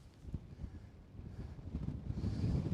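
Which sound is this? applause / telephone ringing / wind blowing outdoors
wind blowing outdoors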